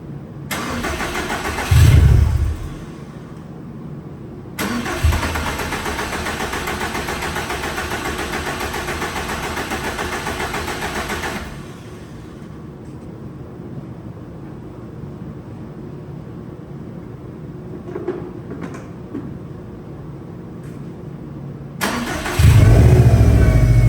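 A 2015 Subaru STI with a new engine cranks and fires for its first startup, settles into a steady idle, drops lower, then revs louder again near the end. The sound is close and continuous, with no talking.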